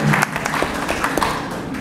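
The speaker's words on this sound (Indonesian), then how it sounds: "Tepuk tangan dulu Bapak Ibu." A brief burst of crowd applause, scattered clapping that quickly thins out, heard close with faint talk underneath.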